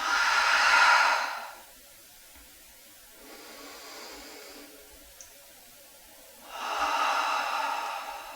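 A slow, deep breath drawn in and released during a gentle yoga session: a soft airy inhale, a quieter pause, then a long breathy exhale, close and intimate with no talking.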